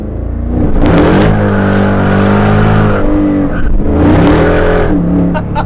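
Old classic Corvette revving hard during a burnout, a loud, close, sustained engine roar with rising and falling revs and tire squeal, no talking.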